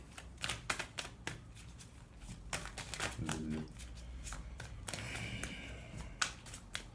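Playing cards are handled and shuffled at close range, with quiet crisp taps and flicks followed by a brief fluttering riffle, all fairly faint against a soft room background.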